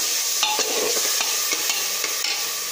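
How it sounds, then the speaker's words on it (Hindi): Rice stir-roasted with softened tomatoes in a pan, sizzling steadily while a spatula scrapes and clinks against the metal in irregular strokes, close and fairly loud with no talking. "अब इसमें चावल डालकर हल्का सा भून लेंगे।"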